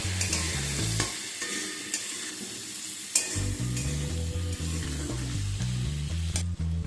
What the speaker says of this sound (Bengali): এবার আলু আর কুমড়োটাকে একসাথে খানিকক্ষণ একটুখানি ভাজা ভাজা করে নেব।